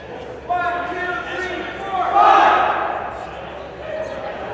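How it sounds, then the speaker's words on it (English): Grand Valley basketball team shouting a cheer as they break a huddle in a gym, a loud group chant rising over crowd murmur, with a sharper swell midway through. "Couldn't quite catch what that cheer was by Grand Valley"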